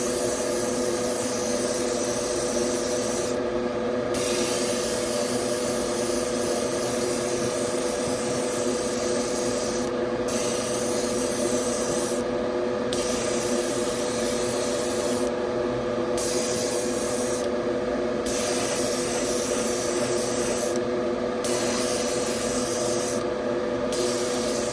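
Spray gun hissing steadily as paint goes onto parts of a 1970 Chevelle, a continuous close airy spray broken by several short pauses where the trigger releases.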